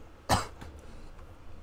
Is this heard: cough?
yes